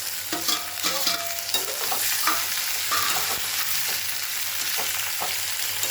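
Tomato stirred into dried fish thokku frying in a pan, a close, steady sizzle with repeated scraping and tapping strokes of the spoon.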